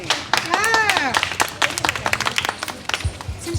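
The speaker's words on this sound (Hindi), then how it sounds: "ताली बजाइए जोर जोर से, उससे स्वास्थ्य भी अच्छा रहता है लोगों का।" Children and an audience clap hands at an environmental awareness event in Delhi, with quick rhythmic claps breaking through while a voice talks over them and a brief high squeal rises early on.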